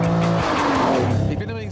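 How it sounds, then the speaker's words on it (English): A 1974 Lamborghini Countach's 375-horsepower engine drives at high speed, its tone shifting and dropping in pitch, with tire squeal and a voice talking over the loud, close road noise. "the Countach hits its limit of 375 horsepower, but the car never reaches its top speed of 300 kilometers"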